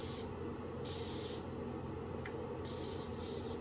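A spray bottle squirts mist onto a piercing in three short hissing bursts, close and fairly quiet, over steady background noise.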